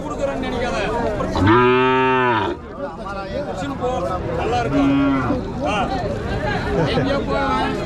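A loud, drawn-out cow moo rises over a busy crowd of chattering voices at a livestock market, followed by a shorter, fainter moo a few seconds later.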